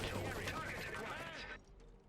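Artillery fire from field cannons in the Iron Harvest strategy game, a dense, loud barrage of booming blasts and battle noise filling the moment before cutting off abruptly into quieter background.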